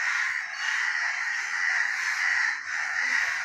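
Harsh, insistent cawing from a crow near a cat that has killed another crow, continuous loud calls with slight pulsing, close by and alone.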